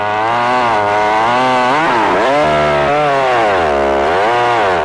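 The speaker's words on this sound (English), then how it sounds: "The new Easy is the lightest chainsaw Homelight ever built." Homelite Easy chainsaw snarling loudly at close range, its two-stroke engine pitch dipping and rising repeatedly as the throttle is blipped between idle and full revs, with no talk over it.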